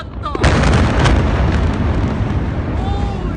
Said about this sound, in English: The chemicals were already overheating and triggered a far more violent secondary explosion 31 seconds after the initial blast.